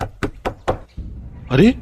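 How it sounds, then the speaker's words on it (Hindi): Four sharp, evenly spaced knocks on the door of a run-down house, loud and close, followed by a short startled voice. "ये तो दरवाजे की आवाज है।"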